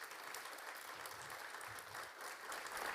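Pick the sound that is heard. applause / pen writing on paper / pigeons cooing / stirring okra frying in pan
applause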